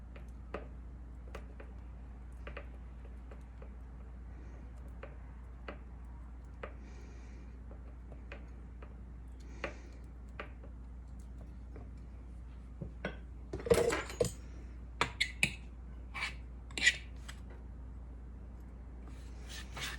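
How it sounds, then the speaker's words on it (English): A fork smashes butter into a berry cobbler crumble mixture in a bowl, giving soft, sparse taps and scrapes, then a cluster of sharper clinks against the bowl near the end, close and quiet with no talking. "take your fork and smash the butter down into the mixture"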